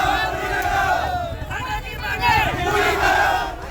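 A dense crowd of farmers outside the district marketing office in Chhindwara, protesting a fertilizer shortage, makes a steady, loud din of raised, overlapping voices and shouts that never lets up.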